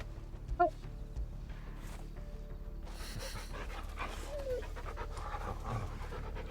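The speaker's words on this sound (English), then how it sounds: "I didn't know you could pet the dog." Dog panting rhythmically while petted in the video game Final Fantasy XVI, a steady close breathy pant with a brief whimper-like squeak early on and light background game sound.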